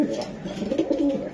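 Racing pigeons, a hen sitting on eggs among them, coo steadily and close up in a loft, with soft repeated throaty calls overlapping throughout.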